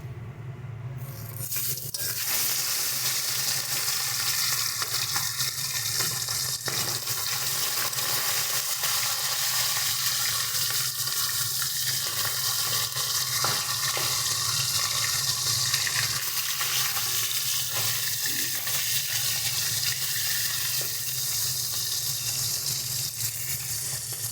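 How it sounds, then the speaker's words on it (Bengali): Pomfret fish frying in hot oil in a kadai, giving a loud, continuous hiss and crackle that holds steady for more than twenty seconds, close by and with no talking. "দেখো তেলটা গরম হয়ে গেছে এবার আমরা মাছগুলোকে ভেজে নিচ্ছি"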